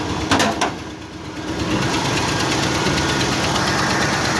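A 1976 Ford F150's 390 V8 engine runs rough, a close, loud, uneven idle with a pulsing low rumble and shaky vibration, a couple of sharp knocks near the start.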